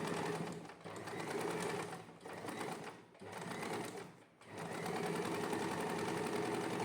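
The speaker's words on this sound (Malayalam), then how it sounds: "അടുത്ത ആ ഒരു ലീഫും കൂടി ഇങ്ങനെ സ്റ്റിച്ച് ചെയ്ത് വരാൻ പോവാണ്" A sewing machine stitches a leaf shape in cutwork embroidery, running in a steady loud rapid whir that pauses briefly three times before resuming, with no speech.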